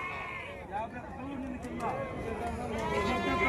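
Ongole Judipi sheep bleat at a busy livestock market in Gudur, several calls rising over close crowd chatter and people talking throughout.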